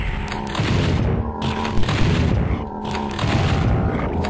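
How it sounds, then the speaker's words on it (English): Enemy arm cannons firing in Doom 64, a run of deep booming blasts and bursts over dense game noise, loud and repeated at short intervals with no talk. "Look at those cannons on their arms"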